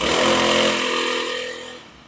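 A four-stroke multi-tool engine that takes a chainsaw attachment runs with a loud, steady buzzing drone that gradually eases down over about two seconds, with no voices.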